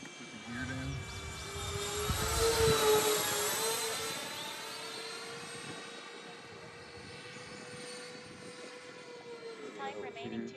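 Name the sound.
Freewing F14 Tomcat twin 80mm RC jet landing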